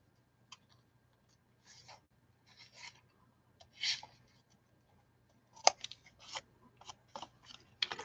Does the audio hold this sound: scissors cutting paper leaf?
yes